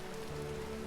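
Steady rain falling in the survival video game Vintage Story, a dense even hiss with soft patter, continuous and fairly faint, with a low sustained music tone underneath.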